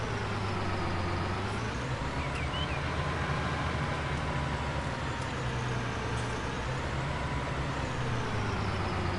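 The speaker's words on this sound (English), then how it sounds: "This tractor does not do good on this hill sometimes because it's so fast." Tractor engine in Farming Simulator 19 driving uphill on a farm field, a steady loud drone with a low rumble running unbroken the whole time and no speech over it.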